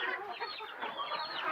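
A small native hen that has just begun laying clucks in a string of quick, close, chattering calls with no voices present.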